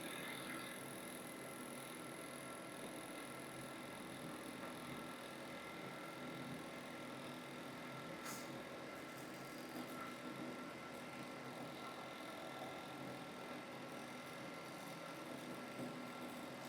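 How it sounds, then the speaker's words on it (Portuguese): Chinese plotter printer running its print head cleaning cycle, a steady faint mechanical whir and ticking with a brief click partway through, continuous and low in level. "Vamos esperar ela acabar de limpar, passar o wiper e mandar mais um teste de cabeça."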